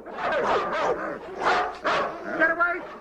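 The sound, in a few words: dogs barking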